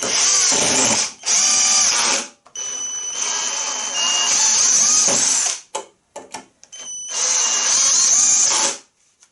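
MEEC TOOLS 008199 cordless screwdriver on clutch setting 10 whirring loudly in several bursts as small screws are driven, with a high motor whine, brief pauses and clicking between runs.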